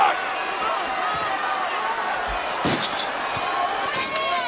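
Steel pipe strikes in WWE 2K15 as Del Rio attacks inside a locked steel cell, a few sharp impacts, one heavy hit standing out, over a steady game crowd roar and ongoing commentary.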